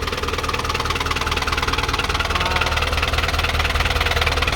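A New Holland TT75 four-cylinder 75-horsepower tractor engine idles steadily up close, a low, even knocking rumble with a constant rhythm and no talk over it.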